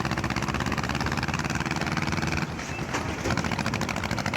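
A video game tractor engine chugs loudly and continuously in a fast, even rhythm, close by and filling the whole stretch.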